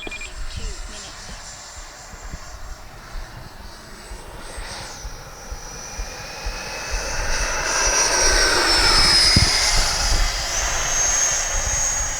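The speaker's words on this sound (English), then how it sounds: "Man, what a beautiful jet." An FMS F-86 Sabre 80mm radio-controlled model jet whines overhead on its first flight, its pitch sliding as it passes and swelling louder toward the end, with some voices in the background.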